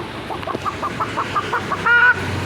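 A person imitates a rooster with their voice, giving a series of short clucking calls that build into a louder crow-like cry near the end, close and clear with no other talk.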